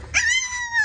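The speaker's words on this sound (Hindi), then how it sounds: "ये चुंदलू ये चिल्ला रहा है इसके अंदर से, चैं कर रहा है" A young rescue puppy lets out a single thin, high-pitched whimper that rises then trails off, close by and clear.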